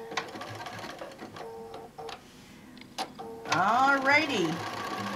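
Quilting sewing machine stitching over a pre-printed laser-cut quilt pattern, brief rhythmic clicks and ticks near the mic, with a short spoken word and a rising whine of machine motion toward the end.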